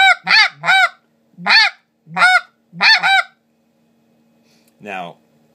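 A White Devil snow goose call blown to imitate two geese barking: six sharp, loud honks in quick pairs and triplets, then a pause and one softer, raspier honk.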